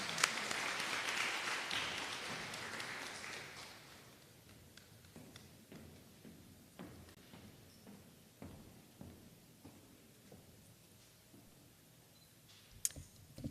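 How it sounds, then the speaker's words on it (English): Applause from an audience at a college students' recognition ceremony, a broad wash of clapping that fades over the first few seconds, then leaves scattered faint clicks and room noise. "Please welcome her with a round of applause."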